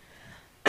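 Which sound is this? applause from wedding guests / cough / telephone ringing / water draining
cough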